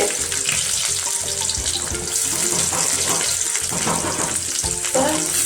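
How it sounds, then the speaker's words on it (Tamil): Onions frying in a pan for chicken kuzhambu, giving a dense, continuous loud sizzle close by with slight crackling variation throughout and no talking. "வெங்காயம் நல்லா வதங்கட்டும்."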